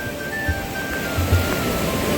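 Continuous loud rush of the flooding Ambika River, a broad steady roar of churning water with no pauses and no voices.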